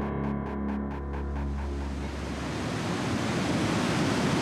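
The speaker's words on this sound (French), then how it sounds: "Pourtant, quelques baigneurs persistent à vouloir affronter les vagues." Waves break on a beach at Palavas, a broad continuous roar of surf that swells and rushes, steady and loud with no voices over it.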